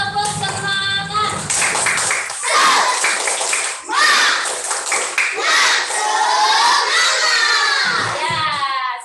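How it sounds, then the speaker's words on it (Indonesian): Schoolchildren in a classroom chant and clap together in the 'tepuk semangat' spirit clap, their voices loud and close, with rhythmic bursts of clapping amid shouted call-and-response lines. "mari kita tepuk semangat"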